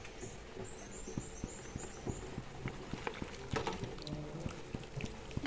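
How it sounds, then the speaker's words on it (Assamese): A pot of bottle gourd fish curry boils steadily, with rapid irregular bubbling pops and patter up close and a faint high tone in the background. "এইখিনি এতিয়া মই উতলিবলৈ দিম প্ৰায় 10-15 মিনিট সময় উতলাম"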